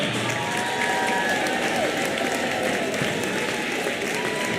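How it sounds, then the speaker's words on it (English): Steady crowd applause fills a gym at a youth basketball game, dense continuous clapping with some cheering mixed in, loud and close throughout. "how about another fine round of applause for these little dribblers as they pass by you"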